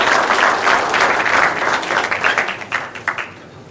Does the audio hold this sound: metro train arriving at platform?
no